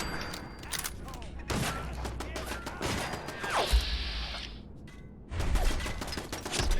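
Gunfire in the video game Fallout 4, a dense fusillade of sharp shots and impacts, with a heavy thud partway through and renewed bursts near the end.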